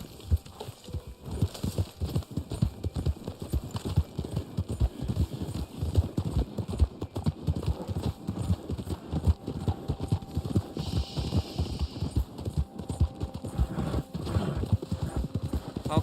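Horse hooves clip-clop in a steady, brisk rhythm throughout, close and continuous, with a faint whinny partway through, in the video game Red Dead Online.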